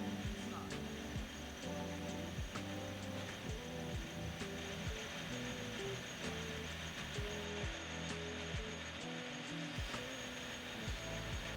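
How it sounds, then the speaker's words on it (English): A metal lathe's cutting tool is fed along oiled stock in a training shop, producing a steady machine hum and grinding whir that runs continuously with faint clicks and small tonal shifts. "Slowly move the cutting edge of the tool down the surface of the stock"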